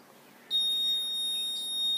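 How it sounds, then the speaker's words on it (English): A steady, high-pitched buzzer tone from an Arduino obstacle-detecting cane for blind people switches on abruptly and holds continuously, loud and close, over faint background hiss. "if I hold it in front of any obstacle, the buzzer will create sound"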